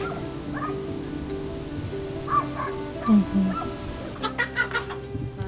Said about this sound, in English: chickens are going in.